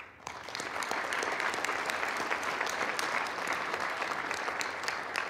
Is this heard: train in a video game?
no